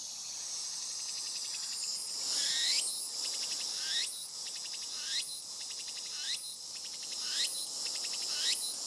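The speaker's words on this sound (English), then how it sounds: "That's the tsukutsuku hoshi" A tsukutsuku hoshi cicada from Japan sings a repeating phrase, with a rising buzzy call about once a second over a steady high drone, clear and alone.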